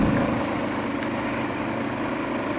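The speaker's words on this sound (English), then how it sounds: "Very little vibration, very little noise." Harbor Freight 3500 generator running under load, heard from several feet away as a steady, even engine drone with a broad hiss and no pauses.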